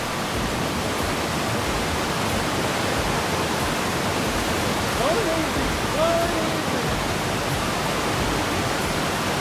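Steady rushing water from a stream below a crossing fills the scene as a constant broadband roar on a hike in pouring rain, with a few faint voices briefly audible over it.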